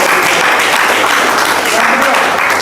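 A class of school pupils claps loudly for their classmates in a classroom, a thick, continuous wash of hand claps that stays even and near throughout.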